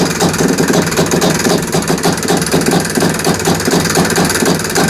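Odyssey FL350 go-kart engine idling steadily just after a cold start with the choke out, a loud, close, even mechanical putter with no talking.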